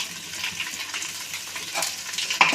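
Chopped chillies fry for pulao in a pan, giving a steady close-up hiss and crackle with a few louder pops near the end and no voices.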